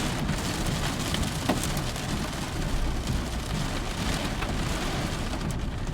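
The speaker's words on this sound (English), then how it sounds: "Oh my goodness, it's now hailing." Rain and hail pelt a car during an ice storm in May in Mallorca, Spain, a dense continuous drumming on the roof and glass, loud and close with no talk.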